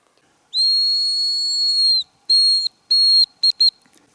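Hazel grouse decoy whistle blown for hunting: a long thin high-pitched whistle, then several shorter ones ending in two quick chirps, clear and close in a quiet forest.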